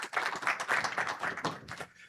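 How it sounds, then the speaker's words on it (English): Conference audience applauding a sponsor at a Kubeflow Summit opening session, a dense wash of many hands clapping steadily for about two seconds before thinning out at the end. "a round of applause for Red Hat"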